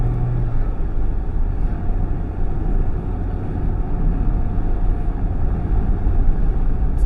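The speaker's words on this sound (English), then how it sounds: "you just want to shift through the gears, not skip any point, get it around, accelerate" The engine of a 2024 Mazda MX-5 RF GT RS roadster drones steadily and loudly while accelerating, a broad, even rumble with no break from the start of the clip to the end.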